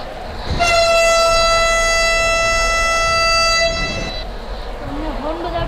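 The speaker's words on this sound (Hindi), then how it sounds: "अभी हॉर्न बजाते हैं गाड़ी का।" Horn of a Vande Bharat Express locomotive in Indian Train Simulator, a single loud, steady multi-tone blast lasting about three seconds before cutting off, followed by quieter engine hum.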